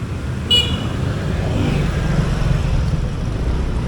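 Road traffic at night with a steady low rumble of passing cars and a brief horn toot near the start, continuous and fairly close, no speech.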